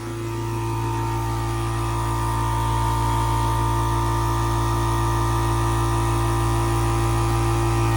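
An 8-gallon VEVOR air compressor's pump runs steadily, building tank pressure toward 90 PSI, a constant close-up motor drone with a low hum and no pauses.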